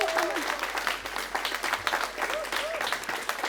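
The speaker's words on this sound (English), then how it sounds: "Let's give her a round of applause." An audience at a city Hispanic Latino Heritage Month celebration applauds in a dense, continuous wash of many hands clapping that stays even throughout, with a faint voice briefly audible within it.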